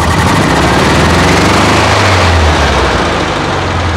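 A 1979 VW Super Beetle engine, converted from L-Jet fuel injection to dual carburetors, runs loud and close at a steady idle, with a dense, even rumble throughout.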